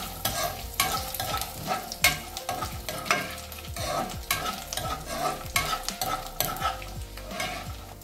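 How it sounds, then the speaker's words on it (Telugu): Cashews, dried red chillies and cumin seeds sizzle and fry in hot oil in a pan while a spoon keeps stirring, a dense continuous crackle with scraping strokes, close up and steady throughout. "దీన్ని ఒక 10 సెకండ్స్ వేయిద్దాం, ఎందుకంటే జీడిపప్పు ఫాస్ట్గా వేగిపోతుంది"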